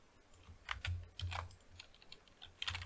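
Password being typed on a computer keyboard, quick bursts of key clicks in several clusters with short pauses between, close and clear with no talking.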